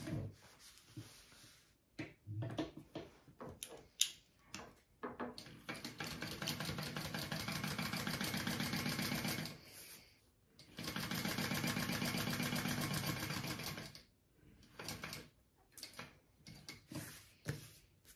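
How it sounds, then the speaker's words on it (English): A domestic sewing machine stitches around a rectangular backpack pocket in two sustained runs of rapid, even needle rattle, separated by short pauses, handling noises and light clicks, close and fairly loud. "I am going to sew around this rectangle and then turn my pocket through."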